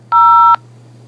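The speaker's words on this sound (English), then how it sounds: "To accept this call, press 0." One telephone keypad tone sounds when 0 is pressed to accept a call from a corrections facility. It is a clean, steady dual-tone beep lasting under half a second over a faint line hum, with no voice.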